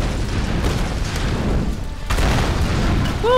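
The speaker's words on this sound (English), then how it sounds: "go towards the explosion and the falling stuff." A game explosion with debris and rocks crashing down in Tomb Raider, a loud, dense low rumble that holds steady for several seconds, with a sharper burst and renewed crash near the middle and faint chiming tones at the end.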